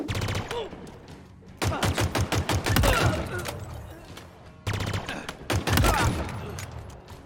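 A gun in Halo Infinite fires in short rapid bursts, two clusters of fast shots separated by a brief pause, loud and close, with a voice speaking softly in between.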